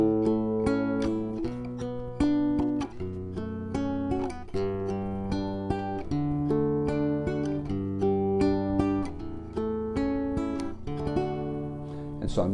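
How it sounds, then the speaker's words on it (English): Acoustic guitar played in a straight four-count fingerpicking pattern, the thumb landing on bass notes such as D under three plucked treble notes, steady and even with chord changes, close and alone. "So straight 4 pattern is very easy to do. It just sounds like this."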